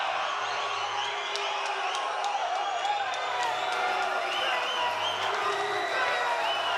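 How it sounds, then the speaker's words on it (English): A sellout crowd at an indoor fight event at Thunder Studios in LA cheers and claps in a steady, dense roar with occasional whoops, while a commentator's voice runs underneath. "crowd loves what they see from the fighter they came to see"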